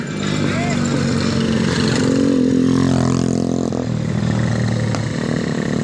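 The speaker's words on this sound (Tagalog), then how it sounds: "single na motor yun ang nagabiyahe dito" Single motorcycles pass along a street, engines droning and revving close by in a constant roar, with people talking over the traffic.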